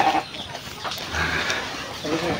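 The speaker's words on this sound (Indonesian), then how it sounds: "di sini juga ada kandang kambing dan kambingnya itu pada besar-besar ya" Large goats in a livestock pen in a rural village, giving faint bleats amid general farmyard noise and background voices, heard from nearby outdoors.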